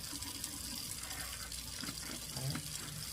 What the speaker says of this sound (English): so we're going to turn our cool water on.